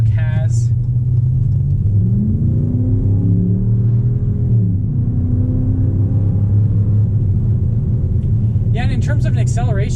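A lifted 2019 Ram 1500 pickup truck's engine rumbles and climbs in pitch as it accelerates, heard from inside the cab, with people talking over the steady drone.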